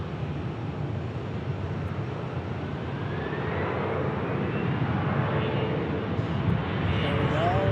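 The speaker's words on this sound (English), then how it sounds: "We got a Tucson departure. E175LR, ladies and gentlemen." An Embraer E175LR jet taking off from Sky Harbor Airport bound for Tucson, its engine roar building steadily and growing louder, with a voice faintly audible in the background.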